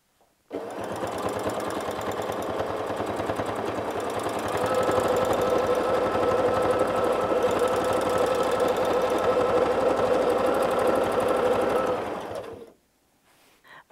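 Sewing machine quilting a patchwork star along template lines, a fast steady mechanical chatter running close and loud for about twelve seconds, picking up speed partway through, then stopping abruptly.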